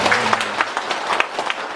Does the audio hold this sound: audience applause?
yes